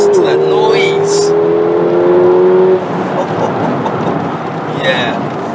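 Mercedes-Benz CLA45 AMG with 420 bhp accelerates hard, its engine note climbing loudly before an upshift drops it into a rougher roar, heard from inside the car.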